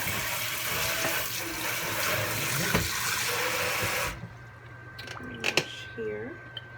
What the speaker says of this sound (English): I'm still going to wash these and repeat this step.